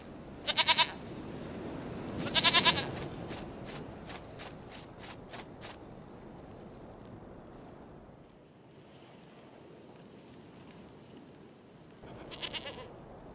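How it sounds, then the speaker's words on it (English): A goat bleats in The Witcher 3: Wild Hunt, with two loud close bleats near the start and a fainter one near the end, over a low rumbling ambient bed. "Goat of mine, dearest, sweetest goat."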